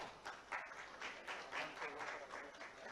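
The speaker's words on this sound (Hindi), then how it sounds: "हमारे बाकी सभी तालियां बजाएंगे जोरदार ऐसे खुशी के अवसर के लिए" An audience applauds at a ceremony appointing assistant professors, dentists and contractual medical officers. The steady crowd clapping is fairly faint and distant, with slight rhythmic swells throughout.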